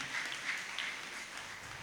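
Faint, steady applause from a congregation at a holy mass for a priest's silver jubilee, soft and distant with no break.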